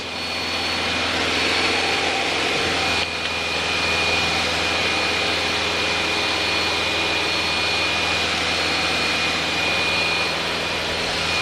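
Steady, loud drone of a light aircraft engine on approach with first notch of flaps set, a continuous cabin roar with a constant tone and no breaks.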